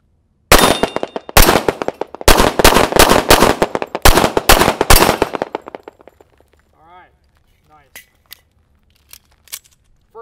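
A 1911 pistol fires a rapid string of about a dozen loud, sharp shots at steel and paper targets in a drill, in tight bursts, then falls quiet with faint clinks and brief voices afterward.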